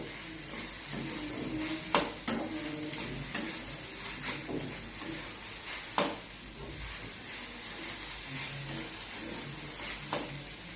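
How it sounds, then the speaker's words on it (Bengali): Grated coconut filling for dudh puli pitha fries in a pan with a steady soft sizzle while a utensil stirs and scrapes it, with several sharp knocks against the pan. "এখন আমি লাড়িয়ে দেবো। একটু স্টিম কমিয়ে লাড়িতে হবে, না নিচে দাগটা লেগে যাবে।"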